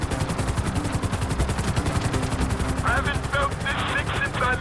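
Gameplay from GTA 5 in which a helicopter's steady rotor thump runs continuously under rapid bursts of gunfire, loud and dense, with a voice briefly heard near the end.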